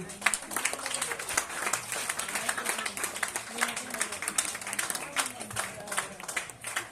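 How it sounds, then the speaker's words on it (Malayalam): Guests at a 50th wedding anniversary celebration break into a sustained round of clapping, dense and steady for several seconds, with voices murmuring beneath it. "എല്ലാവരും കൈയടിക്കൂ."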